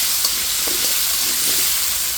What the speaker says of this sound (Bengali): আলুটা দিয়ে দিচ্ছি, লবণ দিয়ে ভেজে নিচ্ছি।